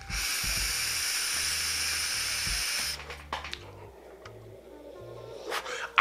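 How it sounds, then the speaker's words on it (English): A puff drawn on a Kanger KTOGO vape starter kit, a steady airy hiss for about three seconds that cuts off, followed by quieter exhaled breath sounds, close up. "Let me have a toke too."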